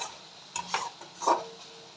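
A spoon stirs tangra fish curry in a hot wok as the oil separates, giving a few short scraping strokes and a faint sizzle, close and fairly quiet, with no talking.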